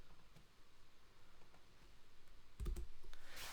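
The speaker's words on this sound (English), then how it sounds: "So let's type in the prompt." Faint, quick clicks of a computer keyboard as a prompt is typed in a quiet room, light irregular keystrokes that grow a little busier toward the end.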